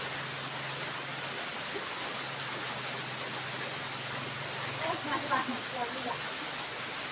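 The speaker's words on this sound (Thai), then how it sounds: "บรรยากาศข้างหลังเนาะฝนตกเนอะเนาะ" Steady rain falls outdoors in a constant, even hiss, with a faint voice briefly audible beneath it.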